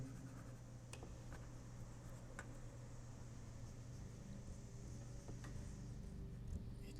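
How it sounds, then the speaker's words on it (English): A pencil sketch of a dog on paper is being erased, soft continuous scratchy rubbing with faint taps under a steady low hum, quiet and close, with no voices. "let's erase what I don't need"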